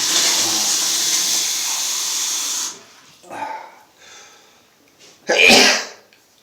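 A man sneezes once, loud and close, with an explosive burst near the end, after a stretch of running tap water that stops and a few quieter breathy sounds.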